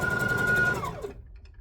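A sewing machine stitches a lap quilt, a close, rapid mechanical whirr that runs steadily, then slows and winds down to a stop within about a second.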